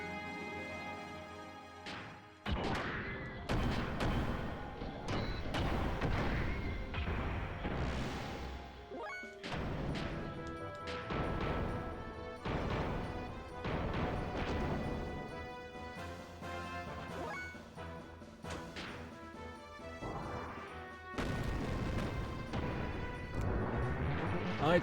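Missile explosions in the Xenogears battle, a long run of crashing blasts and thuds over a steady musical backdrop, with sharp impacts recurring every few seconds at moderate loudness.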